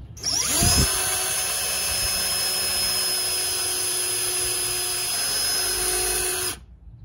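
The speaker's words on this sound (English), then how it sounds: "So let's drill some pilot holes." A power drill bores pilot holes for number eight brass screws in a Carolina Skiff boat hull, a steady loud high-pitched whine that spins up sharply, runs continuously for about six seconds, then cuts off abruptly.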